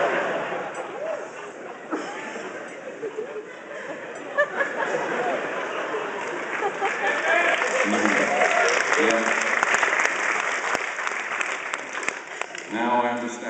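A ripple of applause from a concert audience at a gig, scattered clapping swelling to a moderate level mid-way and continuing with crowd murmur, a voice talking over it toward the end.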